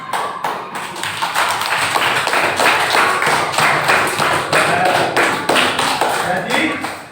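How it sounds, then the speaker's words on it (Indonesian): A classroom of students claps together in dense, rapid applause that runs the full length, with voices mixed in underneath. "Kita beri aplaus sama-sama."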